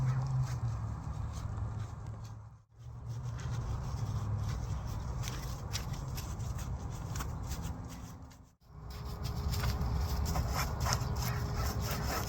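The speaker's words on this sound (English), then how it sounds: "We're going to wipe to clean off all the brake dust and the road grime off the wheel." A cloth wiping brake dust and road grime off a car wheel, steady close scrubbing rubs in long continuous strokes, with two brief pauses between passes.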